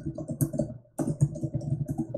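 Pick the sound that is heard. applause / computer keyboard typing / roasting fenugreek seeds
computer keyboard typing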